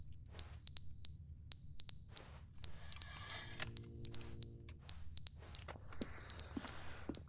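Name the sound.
fire alarm beeping in The Stanley Parable video game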